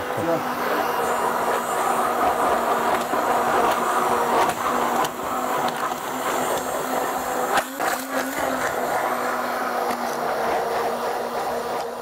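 An electric mixer whirs steadily and loudly through cheesecake filling for the whole stretch, a constant motor drone with a brief dip near the end.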